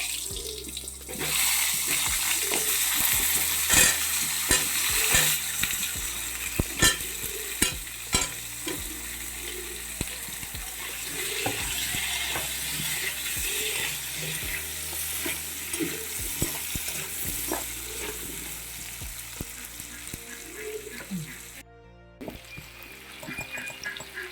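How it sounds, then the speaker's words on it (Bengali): Cut potatoes drop into leftover hot oil and fry with a loud, continuous sizzle, broken by repeated scrapes and taps of a spatula stirring, and a brief dropout near the end. "এই যে বেঁচে থাকা তেলের মধ্যে এই আলুগুলো, কেটে রাখা আলুগুলো আমি ছেড়ে দেবো"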